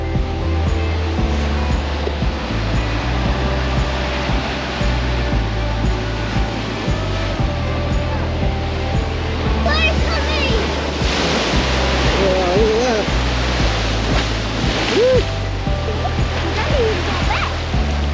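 Ocean waves crash and wash continuously onto the shore at Dongara in stormy weather, loud and close with a steady roaring surf, wind buffeting the microphone.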